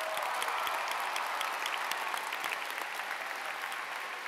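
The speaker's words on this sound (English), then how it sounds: "can we give our YouTubers a huge round of applause?" A large convention crowd claps for YouTubers at the Minecraft convention closing ceremony, a continuous wash of applause that is quiet and distant, holding steady throughout.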